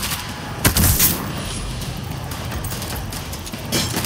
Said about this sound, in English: I got an auto turret running.